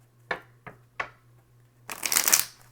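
Tarot cards being shuffled by hand: three quick soft riffle taps, a pause, then a longer crisp burst of cards bridging, close and fairly quiet with no talking.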